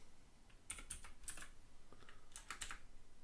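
Computer keyboard typing a terminal command during a NextCloud 14 install on Ubuntu 18.04.1: a few quick key taps, then a pause and a second short cluster of clicks, close and moderately loud, with no talking.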